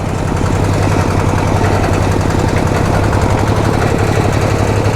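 A second-hand Thai farm truck (rot i-taen) engine hammers away close by with a loud, steady, rapid knocking rhythm that never lets up, with no talking over it.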